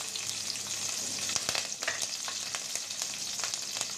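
A bay leaf, cumin and green chili fry in hot oil ahead of a fish curry, making a close, steady crackle broken by sharp pops and spatters as the pan is stirred.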